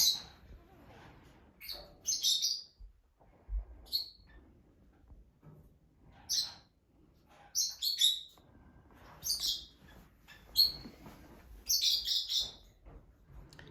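Pet parrots in an indoor cage give short bright chirps and squawks in irregular bursts, fairly close, with quiet pauses between calls.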